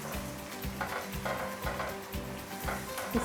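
Coarsely crushed fennel roasts in a pan for chicken haleem, with a soft sizzle under a rhythmic series of scraping strokes from stirring, roughly one every half second, close and moderately loud.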